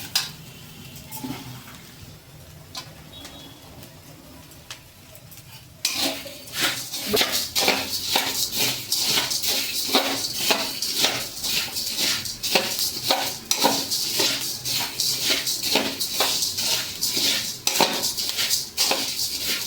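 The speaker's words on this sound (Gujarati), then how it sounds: "સિંગને સતત હલાવી રાખવાની જેથી કરીને સિંગ બળી ન જાય" Peanuts roast in a pan while a utensil stirs them steadily, giving repeated quick metallic scrapes and rattles. A quieter, sparse start gives way to dense, continuous stirring.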